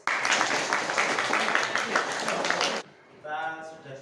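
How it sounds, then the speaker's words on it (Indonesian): Classroom audience clapping in unison after a rhythmic clap-along cue, dense and loud for nearly three seconds before stopping abruptly, followed by a brief voice. "tepuk terus."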